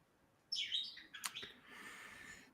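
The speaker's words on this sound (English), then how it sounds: "They're budrigars. That's what they're called. Parakeets is what everybody calls them" Pet budgerigars chirp indoors in a short burst of bright, close tweets and warbles that rise suddenly, then trail off into softer chatter.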